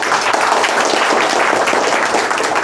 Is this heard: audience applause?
yes